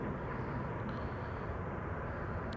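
An airplane arriving at Amsterdam Schiphol Airport, its engine roar a steady, broad, loud rumble throughout with no talk.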